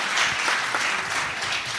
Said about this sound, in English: can we please give a big round of applause for Dr. Shanawaz.